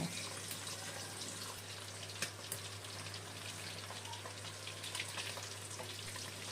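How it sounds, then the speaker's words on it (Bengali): Small tangra fish sizzle steadily in hot oil in a wok on high flame, a continuous crackling hiss with scattered pops and a low steady hum underneath. "এখন হাই ফ্লেমে রেখে মাছটা ভালো করে ভেজে নেব"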